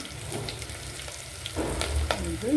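Onions sautéing in a pan for mutton gravy, a soft, steady sizzle that swells louder in the second half with a few light scraping touches, no voices present.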